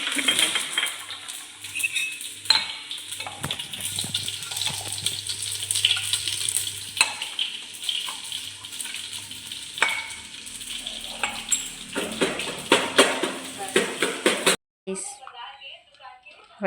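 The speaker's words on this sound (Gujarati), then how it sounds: "મમ્મી વઘારેલી ખીચડી બનાવે છે." Tempered khichdi with pigeon peas cooking in a home kitchen pot, with a steady sizzle and repeated metal clinks and scrapes of a spoon stirring, under people talking.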